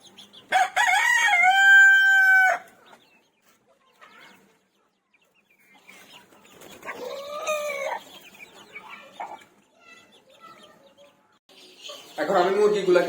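Backyard hens and a rooster kept on a rooftop: two loud, drawn-out rooster crows separated by quiet stretches, then a burst of clucking at the end.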